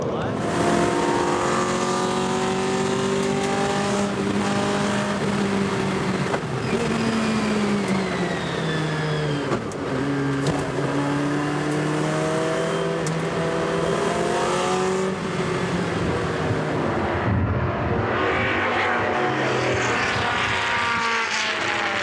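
An Abarth 1000 race car at the 2008 Le Mans Classic, its engine loud and close with a high, buzzing tone that rises and falls through gear changes as it races, continuous throughout and overlaid with voices.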